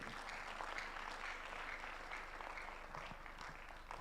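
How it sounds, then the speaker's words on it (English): Continuous applause from a large audience at a business school Management Day celebration, steady and evenly sustained throughout, sounding somewhat distant. "Please, a round of applause for the Dean."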